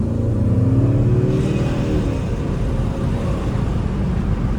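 A Chrysler 300 drives along with its engine droning loud and close, the pitch rising and settling as it accelerates, no voices.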